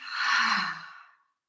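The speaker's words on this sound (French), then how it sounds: "Expirez, soufflez par la bouche." A single deep breath blown out through the mouth during a breathing exercise, a close, breathy exhale that swells and then fades away into silence.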